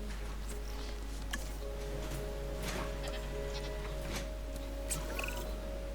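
Bleating goats in a Jurassic Park park-building video game, with several short bleats scattered over a steady low game hum and faint clicks, moderately quiet and with no talking.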